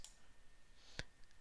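Two faint, sharp computer mouse clicks, one at the very start and another about a second later, in an otherwise quiet room.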